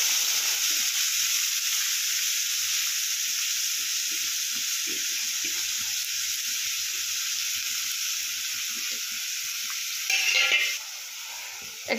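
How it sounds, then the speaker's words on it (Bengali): Chopped fenugreek leaves hiss and sizzle steadily in hot oil, a dense continuous frying sound with a brief louder burst near the end. "এবার আমি তেলের মধ্যে এই যে মেথি শাক কুচি রেখেছিলাম, 1 মুঠোর মতো মেথি শাকটা দিয়ে দেবো।"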